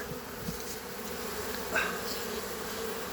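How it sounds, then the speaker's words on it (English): A low, steady hum of many honeybees from a swarm buzzing together inside a hive, a dense drone with occasional brighter whines of individual bees passing close. "There's a bunch of bees in there for sure."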